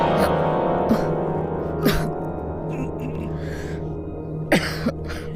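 A few harsh coughs spread out over steady background noise, with a voice murmuring faintly underneath.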